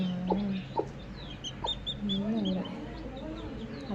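A coffee-coloured chick hatching from its egg, with soft clucking and chirping from the fowl repeating in short bursts close by, over a low steady background hum; a person talks quietly in the background.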